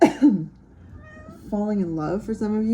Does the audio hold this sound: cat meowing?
yes